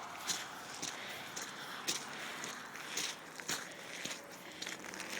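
Footsteps crunch through soft snow and ice on a hillside path near woods, one close step after another at a steady walking pace, each with a crisp crackle.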